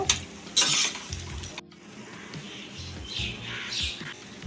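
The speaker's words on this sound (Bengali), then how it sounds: "এবার অনবত নেড়ে চেড়ে আমি আর একটু লাল করে ভেজে নেব" Lentil fritters frying in oil as they are stirred and browned, crackling sizzle broken by scrapes and clinks of a utensil against the pan, close and moderately loud.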